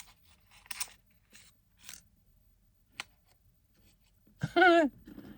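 Scissors snipping through advent calendar packaging in a few short crisp cuts spread across a quiet room, ending with a louder scrape and rustle.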